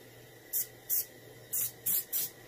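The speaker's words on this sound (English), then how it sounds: "I'm gonna spray a little bit to bring up the scales." Five short hissing bursts of spray paint, each under a second with brief gaps, misted close up onto a reproduction Warmouth fishing lure to bring out the scale pattern; no talking.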